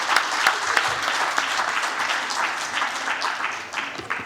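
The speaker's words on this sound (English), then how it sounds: "Please give him a rousing applause." An assembly audience at an annual general meeting applauds a new speaker, a full, even round of clapping with a few sharper individual claps near the front, fading slightly toward the end.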